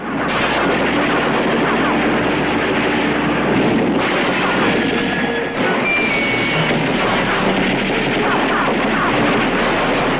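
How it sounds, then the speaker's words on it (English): Loud, dense gunfire from a prison shootout scene in a movie, a continuous barrage of shots and battle noise that fills the whole stretch with little pause. "finally the shootout took place"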